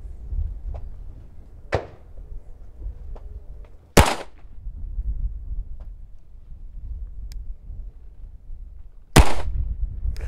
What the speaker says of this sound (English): I lazily pressed the trigger and I got what I got out of it because of it.